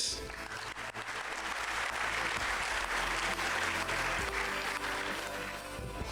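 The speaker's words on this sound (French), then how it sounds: "Je vous demande d'applaudir, pardon, je suis ému, monsieur Hervé Marquez" Audience applause at a 2025 award ceremony, a dense, continuous wash of clapping heard from a distance and fairly faint, steady for the whole stretch over a low room hum.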